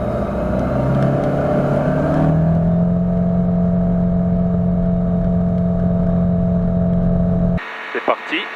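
A P300 ultralight aircraft engine held at full throttle for takeoff, a loud steady droning roar with a strong low harmonic hum that cuts off abruptly near the end, followed by a few faint knocks.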